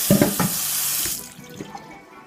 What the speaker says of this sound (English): We can add a little more water.